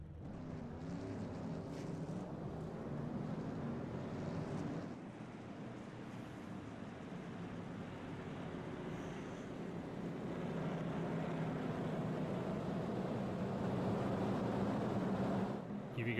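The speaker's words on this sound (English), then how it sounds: "Give you guys a little bit more of the engine volume there." Race car engines in the iRacing video game at Concord Speedway rumble in a steady, low drone, with several cars idling together and swelling slightly louder toward the end.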